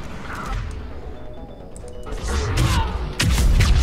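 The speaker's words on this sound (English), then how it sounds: "Explosions!" Explosions in the Mass Effect 3 battle, heavy crashing booms and bursts over rumbling combat noise that swell louder toward the end.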